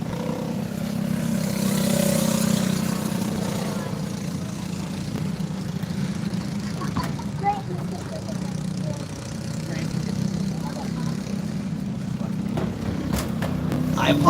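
Kid karts race around a motorcycle speedway, a steady drone of small engines from a distance with a race announcer talking over it throughout.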